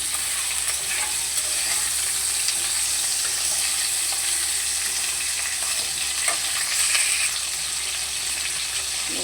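Drumstick stems being stirred in a hot pan, a steady sizzle and frying hiss running throughout with soft scraping stir sounds on top, close and even, no talk.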